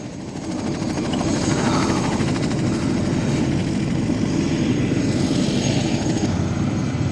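A helicopter at the small Mount Cook airport in New Zealand drones steadily and loudly throughout, its rotor chop and engine roar holding an even level with no voices.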